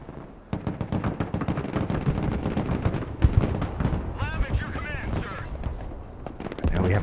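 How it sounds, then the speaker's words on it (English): Mortar shells burst in rapid succession in the war game Broken Arrow, a dense barrage of loud, booming impacts and crackling gunfire that continues with barely a pause, with voices heard mid-battle. "Now we have an enemy mortar dropping shells on our heads"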